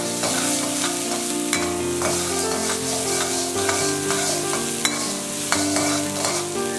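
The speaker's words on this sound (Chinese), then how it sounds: "锅烧热后放一些油，油热后用辣椒炒一下" Green and red chili peppers stir-fried in hot oil in a heated wok give a steady, close sizzle throughout, with occasional sharp clinks of a spatula against the metal and a low tonal hum underneath.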